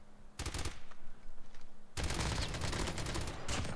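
Swordfish burst rifle firing in COD Mobile battle royale, a short rapid burst followed by a pause, then a longer sustained stretch of fast, loud, crackling gunfire close up.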